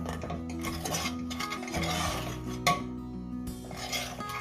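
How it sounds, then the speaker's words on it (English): Jowar flour and hot water being stirred together into dough in a bowl, with a steady scraping, clinking stir of a utensil against the vessel that carries on without pause over a faint low background hum. "Now let me mix everything together."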